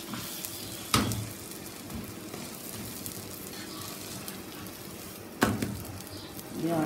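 A cheese egg sandwich cooks on a tawa with a quiet, steady sizzle, broken by two sharp knocks of a utensil against the pan.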